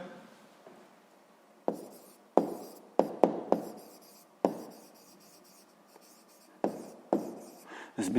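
A pen writes on paper in short bursts of scratchy strokes, with sharp taps between them as the tip lifts and meets the page, close and fairly quiet, during a sixth-grade maths exercise.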